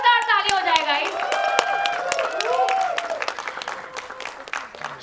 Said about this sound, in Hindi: Can we have a huge round of applause? जोरदार ताली हो जाए गाइस।